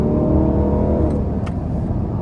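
A 2023 Lexus LC500 convertible with a 5-liter V8 drives along, its engine a steady, close low rumble with a faint rise, and no talk over it.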